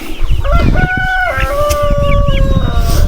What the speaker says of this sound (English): You're an ugly little chicken.